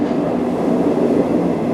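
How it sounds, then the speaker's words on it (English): A train near Fukuoka and Saga, Japan, passes close by with a loud, continuous rumbling roar and faint rhythmic wheel clatter, steady throughout. "there's a train going by next to us"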